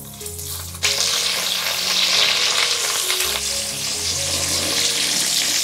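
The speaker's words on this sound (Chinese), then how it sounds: "把这个肉的这一面呢先煎一会儿" Eggplant pieces stuffed with pork fry in a pan, a loud steady sizzle that jumps up sharply after the first second and holds, with faint low hum from the stove and no talking.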